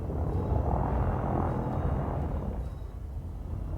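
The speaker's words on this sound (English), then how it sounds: "Landing gear deployed." Landing gear deploys on a spaceship descending toward a planet in Elite Dangerous, heard as a steady, loud mechanical rumble over a deep engine drone that swells and then settles.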